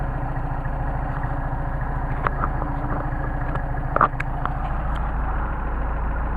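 A Mercedes 190SL engine on Solex carburetors idles in cold 29°F weather with a low, steady, rhythmic rumble, with a few light mechanical clicks and a brief clatter partway through.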